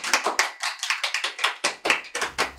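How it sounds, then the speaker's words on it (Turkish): Studio audience clapping to welcome a guest on a Turkish comedy show, a series of bursts with sharp hand-clap transients, fairly close and loud, with no talking over it. "alkışlarla başlıyor."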